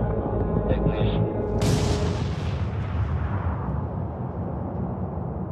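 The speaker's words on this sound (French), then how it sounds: "À 5h30, la détonation de la bombe dégage une énergie de 21 kilotonnes de TNT." Trinity plutonium atomic bomb test detonation of 21 kilotons: a deep rumbling roar erupts into a loud blast partway through, then rolls on as a long decaying rumble, with a voice talking over it early on.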